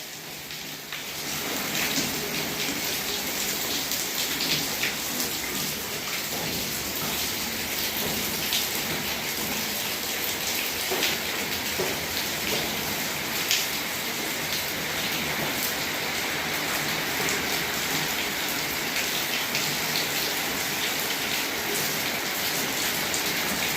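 Heavy, continuous rain pours down without a break, a dense, loud, even hiss of drops striking surfaces. It starts a little quieter and then holds steady for over twenty seconds.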